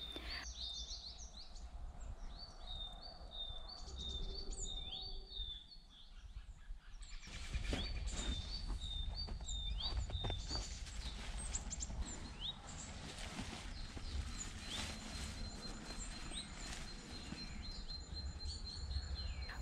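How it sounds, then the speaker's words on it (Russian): Early spring birdsong outside a reed-built hut in the countryside, repeated high chirps and trills from several birds at a moderate distance, layered over a soft, steady background of rustling and crackling. "весенние трели птиц"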